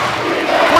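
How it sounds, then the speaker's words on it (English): Home crowd at a Leominster boys high school basketball game against Fitchburg chanting for defense, a loud, steady roar of many voices filling the gym without a break. "The Leominster crowd with the defense chant."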